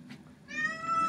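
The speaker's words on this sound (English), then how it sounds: "Oh, my cat's in here." A house cat gives one rising, drawn-out meow close by in a quiet indoor room, with a soft thump just before it.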